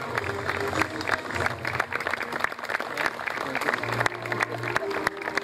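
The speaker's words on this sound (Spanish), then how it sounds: "fuerte el aplauso para el Centro Gaucho de Coronel Moldes y Herencia Gaucha" Crowd applause at an outdoor Malvinas veterans' day ceremony in Coronel Moldes, sustained dense clapping with some crowd noise and low tones underneath.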